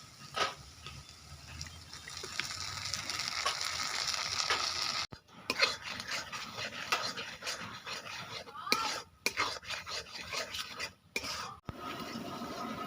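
Masala spice paste sizzling and crackling in hot oil while being stirred, a close, continuous frying hiss broken by scrapes and short pauses, with no speech.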